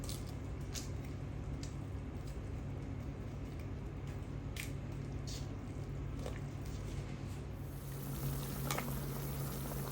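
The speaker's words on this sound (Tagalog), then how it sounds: "Tapos, hayaan lang po natin na kumulo ng kumulo." Dinengdeng, an Ilocano vegetable broth, boils in a pot with a constant bubbling rumble and occasional soft splashes.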